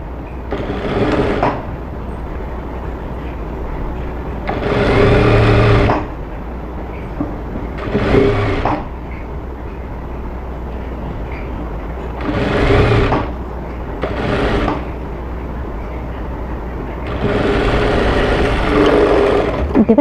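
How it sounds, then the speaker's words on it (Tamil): Sewing machine stitching a half-inch seam along a blouse lining, running in several steady whirring bursts of a few seconds each, separated by brief pauses, loud and close with no talking. "அந்த லைனிங் சைடு இதை வந்து இப்படி வச்சு நம்ம முதல்ல எப்படி 1/2 இன்ச் கேப்பில் தையல் போட்டோமோ அதே மாதிரி இப்போயும் போட்டுடணும்"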